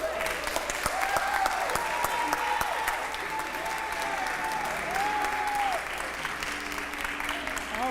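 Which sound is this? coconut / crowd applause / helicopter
crowd applause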